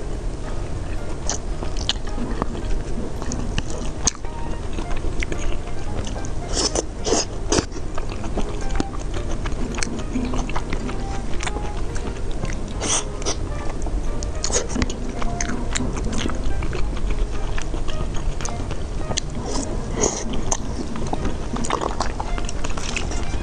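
Biting and chewing on sausage, chicken and pork loin, with close, steady crunches and wet mouth sounds that continue without talking.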